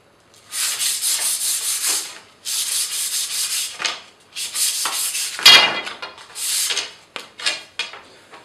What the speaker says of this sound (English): With some coarse sandpaper, I'm going to score the blank only where the handle kit is